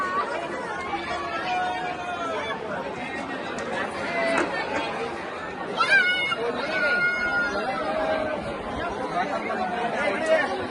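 A dense crowd of pilgrims at a hillside temple darshan, a continuous babble of many overlapping voices close and far, with occasional louder shouts rising out of the steady hubbub.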